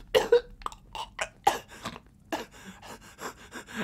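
A man coughs harshly several times in quick, uneven bursts, with gasping breaths between them, close and fairly loud in a Fallout 4 modded survival game.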